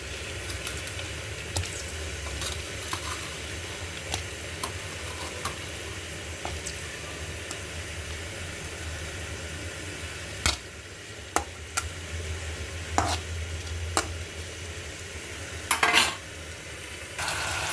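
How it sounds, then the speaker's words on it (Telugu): Fish fries in hot oil as a low, steady sizzle that goes on for a long stretch, with scattered sharp clinks and scrapes of a utensil against the pan, most of them near the end. "నూనె వేడైంది ఫ్రెండ్స్, చేపలు వేయించుకుందాం."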